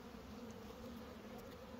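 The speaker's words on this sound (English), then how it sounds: "Two boxes of bees, and this box still got some weight to it." Honey bees buzz steadily at a beehive during an early-spring hive check, a close, continuous drone with no talking.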